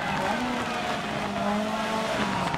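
Rally car from the video game Dirt Rally driving flat out on asphalt in stormy conditions, a steady close engine drone with faint tire squeal running continuously and alone.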